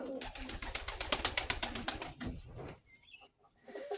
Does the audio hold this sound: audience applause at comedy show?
no